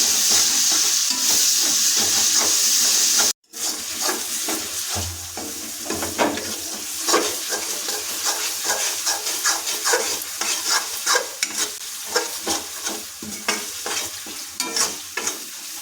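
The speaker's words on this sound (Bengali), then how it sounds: "পেঁয়াজটা ফিফটি পার্সেন্ট মতো ভাজা হয়ে গেছে" Salted onions fry in a pan with a continuous sizzle while a ladle stirs them in repeated scraping strokes, loud and close, with no voices.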